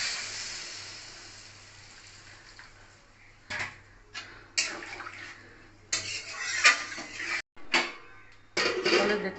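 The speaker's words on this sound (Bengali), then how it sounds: "এখন হচ্ছে এটা দিয়ে আমি একটু নাড়াচাড়া করে নেবো ভালো মতো।" Vegetable stems being stirred in a pot with mustard paste water, heard as intermittent wet scraping and clattering bursts over a low steady hum, with a short quiet gap between bursts.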